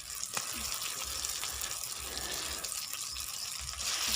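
Meat pieces dropped into hot oil with a cooked-down spice masala give a steady, broadband sizzle and hiss that holds throughout at moderate loudness, with no talking.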